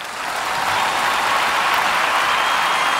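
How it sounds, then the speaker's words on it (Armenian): Dense, steady applause from a large audience filling a hall at the Armenia TV Song of the Year music awards in Sochi, continuous and loud throughout with no speech. "թող մի հատ ծափահարեն բոլոր հայերը։"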